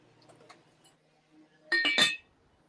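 Heavy, thick Shenango restaurant-ware dishes clink together in a short cluster of bright ringing taps after a few faint handling knocks, close and fairly quiet.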